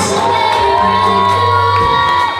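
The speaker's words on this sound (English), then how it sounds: "The cake has been cut. Give them a big round of applause." Wedding reception guests cheer and shout right after the cake cutting, a loud, dense burst of whoops and crowd noise over a sustained tone, with no clear clapping standing out.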